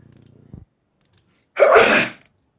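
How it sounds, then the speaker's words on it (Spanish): A single loud sneeze bursts out at close range during an online thermodynamics lecture, preceded by a faint bit of low voice and then silence. "perdón, estornudé y no alcancé a sacar el sonido"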